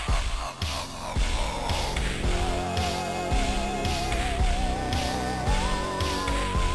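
Super Nintendo soundtrack music from the game Plok plays continuously with busy layered synth parts, driving percussion and a wavering lead melody, steady and moderately loud.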